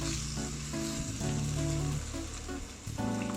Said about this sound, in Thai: แล้วก็ผัดคลุกเขาให้กะเพราเราสลบ